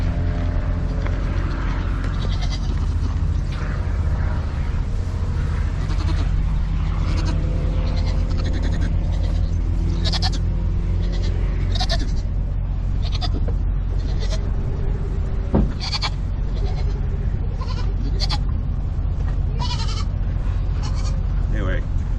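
Three goats bleat intermittently around a milking spot outdoors as a storm approaches, their calls half buried under constant low rumble and wind, with a person talking over them throughout.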